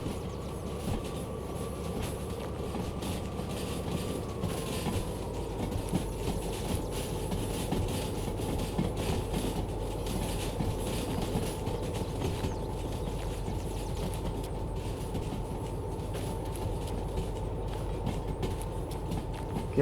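A DH4 diesel locomotive hauling a long train in the Derail Valley train simulator, giving a steady rumbling drone with a constant engine tone and faint rail noise throughout, no voices.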